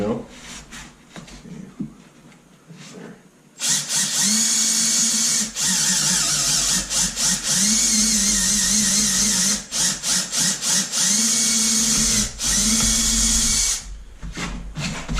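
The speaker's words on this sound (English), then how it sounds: "obviously the drill bit's got to be bigger than the blade that you're going to put into the hole" A power drill whines loudly and steadily for several seconds boring a hole in pallet wood, revving in bursts with brief pauses, after a quieter stretch with faint activity.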